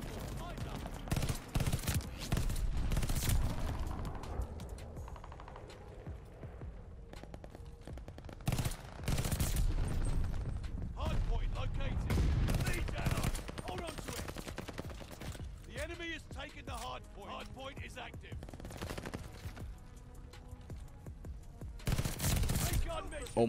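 Itra Burst gunfire in the video game Call of Duty: Vanguard, repeated sharp bursts of shots in clusters with short gaps, loud and close, with a player talking between volleys.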